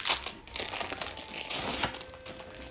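Plastic packaging around cheese slices crinkles and crackles as it is opened, close and fairly quiet, in irregular bursts with no talking.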